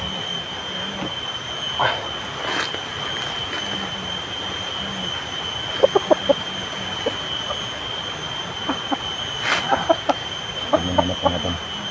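A chicken clucks and squawks in scattered short bursts over a steady electronic hum and background music.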